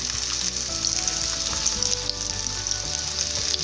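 Homemade breaded chicken milanesa fries in a pan with a loud, steady, close crackling sizzle that runs unbroken throughout, with no voices.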